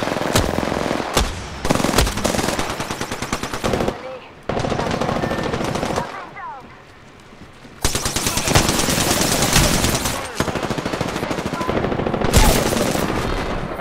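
Automatic and rapid gunfire in the video game Apex Legends, loud close bursts of shots broken by short pauses, with a voice talking under the fire.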